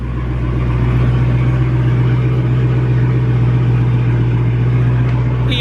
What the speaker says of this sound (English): I'm gonna give y'all a quick little rev before I go.